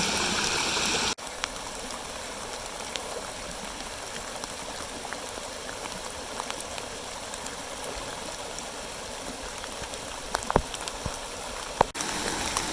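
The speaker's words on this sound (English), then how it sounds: "you can see a bit of rapids as the water is flowing over the rocks" Water rushes and splashes over rocks in the small rapids of a stream's erosion zone, a steady close hiss and babble with no voices.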